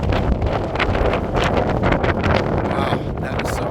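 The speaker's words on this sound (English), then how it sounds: "Oh, it's so windy." Strong wind buffets the microphone in a steady, loud roar with gusty rumbling throughout, no voices present.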